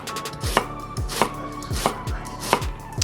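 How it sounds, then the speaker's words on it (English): Knife slicing through a white onion on a cutting board at an angle, with five crisp, evenly spaced chops about every 0.6 seconds, close and clear with no talking. "Going at a 45-degree angle and moving with the angle of the onion, I will be slicing all the way across"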